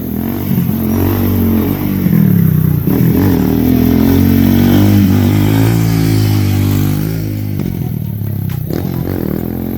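A motorcycle engine runs loud and close during wheelie practice, its tone rising and falling steadily as the throttle is worked, with a few scraping clatters near the end.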